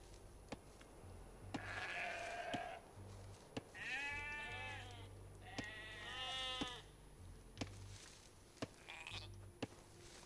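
Sheep in Age of Empires 2 bleat several times in short wavering calls, with soft rhythmic clicks and a low game hum running beneath.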